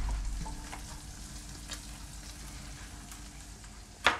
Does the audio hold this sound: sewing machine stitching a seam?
no